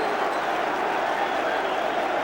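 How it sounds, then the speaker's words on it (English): A big football stadium crowd at an Everton versus Chelsea match roars in a steady, dense wash of cheering and noise, loud and continuous throughout without letting up. "And the big crowd really enjoying that one."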